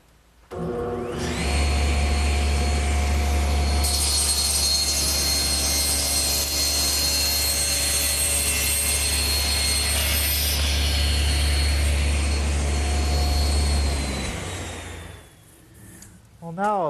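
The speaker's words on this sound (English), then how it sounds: "I'm going to use my homemade panel cutter, which simply rides in the miter gauge slot" A table saw fitted with a homemade panel cutter that rides in the miter gauge slot cuts a wooden side panel square. A loud, steady motor whine and cutting roar runs close for about thirteen seconds before winding down.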